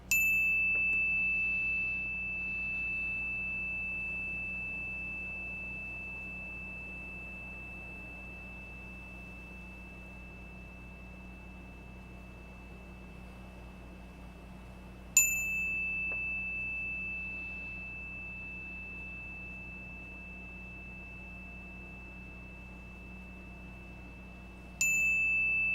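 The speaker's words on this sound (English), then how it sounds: "We're going to use the bell to bring us in" A bell is struck to open a reading session, giving three clear rings spaced far apart, each a bright sustained tone that fades slowly into a quiet room.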